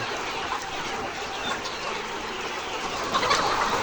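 Layer chickens cluck and murmur at a poultry farm, a steady busy flock chatter running throughout with a few louder calls near the end, no voices.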